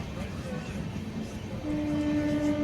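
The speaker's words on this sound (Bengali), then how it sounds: "ট্রেনটা রওনা দিল টুয়ার্ডস বর্ধমান ফার্স্ট স্টেশন।" A train pulls out of Howrah Junction towards Bardhaman with a low rumbling roll, and a sustained horn or whistle tone comes in partway through and holds to the end.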